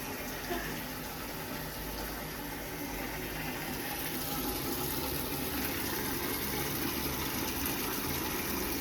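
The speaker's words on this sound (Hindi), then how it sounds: "पानी की आवाज़ है।" Steady water running in an outdoor setting, a continuous broad rushing wash that grows slightly louder toward the end, with no talking.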